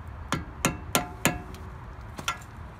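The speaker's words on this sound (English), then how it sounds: "Maybe I need to hammer it in." A heavy-duty screwdriver is hammered against the driver-side CV axle of a 2006-2011 Honda Civic: five sharp metallic strikes in an uneven rhythm, close and fairly loud, with no talking.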